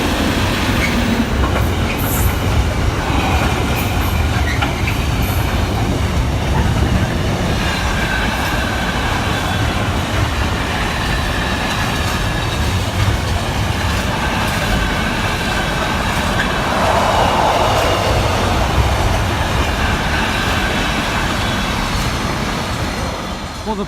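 Freightliner train rumbling steadily past the Saxilby level crossing, a loud continuous roar of wheels and wagons with rhythmic clatter and occasional squeal, close by throughout.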